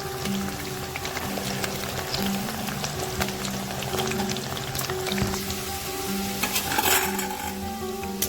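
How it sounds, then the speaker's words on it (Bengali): Potatoes frying in oil give a steady, close crackling sizzle throughout, with occasional stirring clinks and soft tonal music running underneath. "আলুগুলো ভালো করে লাল লাল করে ভেজে নিতে হবে।"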